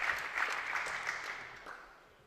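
Applause from a small audience at a men's 3-positions rifle shooting final, moderate clapping that gradually fades toward the end.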